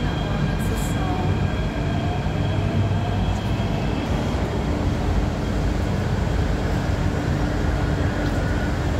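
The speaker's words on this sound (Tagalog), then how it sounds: "The train to North Point is arriving." Hong Kong metro train arriving at a station, a steady loud rumble with faint high squeals throughout, with voices talking in the background.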